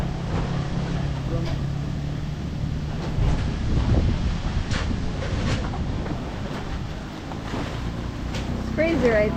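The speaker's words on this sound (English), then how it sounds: "So windy." Steady roaring rainy-season wind at a house build site in the Philippines buffets the microphone, a constant low rumble with gusty swells and bursts throughout.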